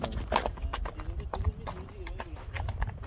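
Horse hooves clip-clop in a quick, steady rhythm on hard ground in Uzbekistan, close and fairly quiet, with people talking over the hoofbeats.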